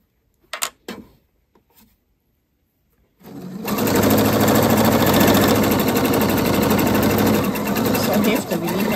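A domestic sewing machine stitches tulle layered with pattern paper, starting after a few faint clicks and then running steadily and loudly in a fast mechanical whir, close up, for the rest of the clip.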